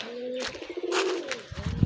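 Pigeons coo nearby in soft, low, throaty calls, with a couple of rolling coos and faint rustling between them.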